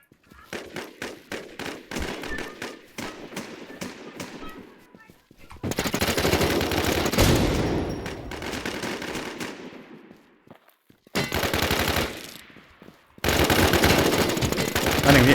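Automatic rifle fire from the video game Infestation crackles in rapid bursts. A stuttering volley opens the sequence, then long sustained salvos follow, broken by short silent gaps, loud and close.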